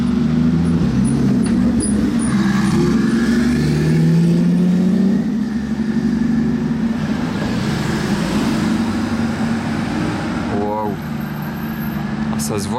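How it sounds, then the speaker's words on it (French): A circuit-prepared race car with a rear wing roars past in Monaco with a loud, throaty engine, its sound swelling and then fading, as people talk over the noise. "Ça se voit que la voiture, c'est une voiture de course."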